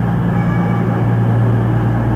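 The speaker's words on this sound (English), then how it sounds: "Here comes my train." An Arriva Trains Wales passenger train drawing into a station, heard as a loud, close, continuous low rumble and engine drone with a steady hum and no voices.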